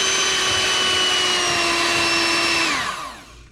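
A stand mixer beats dairy-free cheesecake batter until smooth, a loud steady motor whine running alone for a few seconds, then slowing and winding down at the end.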